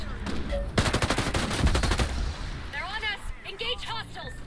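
Rapid bursts of automatic gunfire in the tactical shooter Ghost Recon Breakpoint, loud and close, a dense volley that fades into fainter shots and in-game radio chatter.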